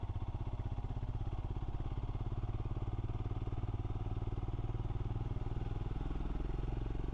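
Royal Enfield Scram motorcycle engine while riding through Welsh lakes and mountains, a steady, rapid low thumping exhaust beat that stays constant and close throughout.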